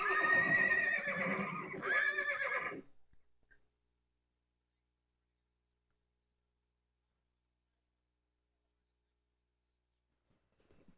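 Mares and foals held apart by a fence whinny and neigh to each other in two loud, close, shaky calls lasting about three seconds, then silence.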